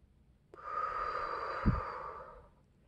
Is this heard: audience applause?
no